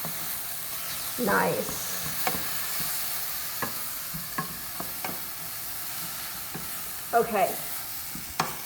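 Vegetables being stirred in a sizzling pan on a kitchen stove, a steady frying hiss broken by scraping stirs and utensil clicks, with a couple of short spoken remarks over it.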